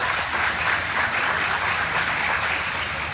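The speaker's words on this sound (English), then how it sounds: "let's give them another nice round of applause" Audience applause at a beef cattle show, a dense, steady wash of clapping from many hands that holds evenly for several seconds with no voices over it.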